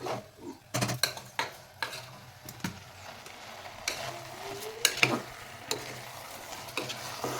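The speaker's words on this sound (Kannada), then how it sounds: "ಮಸಾಲೆ ಫ್ರೈ ಆಗಿದ್ಮೇಲೆ ಇವಾಗ ಅಕ್ಕಿನ ವಾಶ್ ಮಾಡಿ ಹಾಕ್ಕೊತಾ ಇದ್ದೀನಿ." Washed rice is tipped into frying masala in a pot for pulao, giving a soft sizzle broken by repeated clinks and scrapes of a spoon against the pot.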